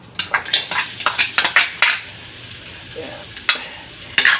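Garlic, onion and ginger sautéing in a little oil for Filipino pinapaitan, with a spoon scraping and knocking against the pan in a quick irregular series of close, sharp strokes over a steady low sizzle.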